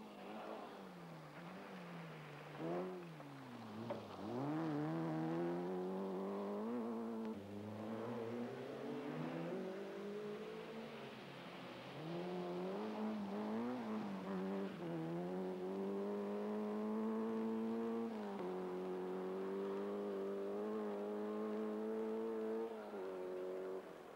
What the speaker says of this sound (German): Eine super Leistung bot Steffen Schmidt mit dem kleinen Peugeot 205 GTI bei der Hessen